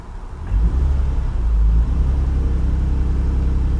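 A car engine in drive, revved under load: a loud, steady low rumble that swells near the half-second mark and holds through the clip, with no talk.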